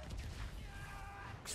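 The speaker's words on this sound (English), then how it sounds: "Explosion." A loud, rumbling video game explosion fills the whole moment, a dense crash of noise with voices talking over it.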